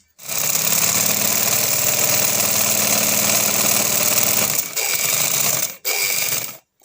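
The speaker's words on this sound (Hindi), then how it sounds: "अब आपको ये सिलाई लगा के दिखाती हूँ।" A sewing machine stitches fabric for a frock, giving a loud, close, continuous rapid mechanical chatter that runs for several seconds before stopping, with a brief final burst.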